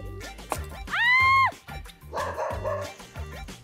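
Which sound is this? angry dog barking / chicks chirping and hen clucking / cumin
angry dog barking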